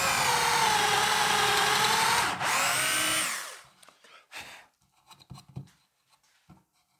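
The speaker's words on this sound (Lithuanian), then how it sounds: "Nu va, prigręžiau skylių." A power drill with a worn bit bores holes near an edge, a loud steady whine for about three seconds that winds down, followed by scattered scraping and handling knocks.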